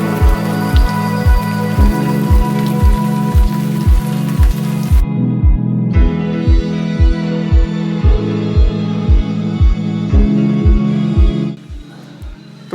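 Rain falls steadily outside a barbecue restaurant, a dense hiss carrying over a regular, evenly spaced pulsing that stops abruptly near the end.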